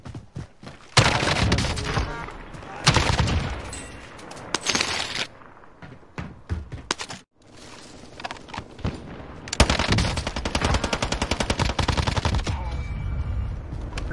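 Bursts of automatic gunfire from a shooting video game, several loud rapid volleys separated by short pauses, with a player talking briefly between them.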